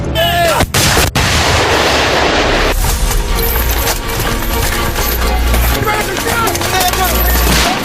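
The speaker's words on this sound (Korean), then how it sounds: "포격과 동시에 일제히 공격이 시작된다" Artillery and gunfire during a South Korean army KCTC combat training exercise in a forest: heavy booms and sharp shots, then a dense, continuous fusillade of rapid gunfire, loud and close throughout.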